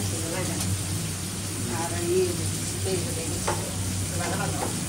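Prawns hit a pan of fried onions with a dense, continuous sizzle and crackle heard up close, while a person speaks briefly over the frying and a faint stirring scrape shows up.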